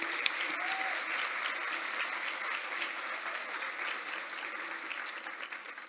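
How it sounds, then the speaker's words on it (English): Audience applause fills a hall at a Celebrating Women in Trade event honoring sponsors, a dense steady wash of clapping that stays even and fairly distant, then tapers slightly at the end. "Let's give them a big round of applause and thanks to all the sponsors."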